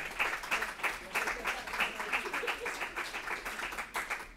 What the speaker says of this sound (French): Oui, je crois qu'on peut l'applaudir, effectivement.